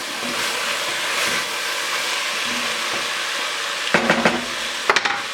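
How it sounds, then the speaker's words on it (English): Browned bison meat stirred back into a hot pan for carne guisada, a steady sizzle with scraping stirs that grow clattery near the end, no talking. "We're going to throw our browned bison right back in here again. We'll stir that up."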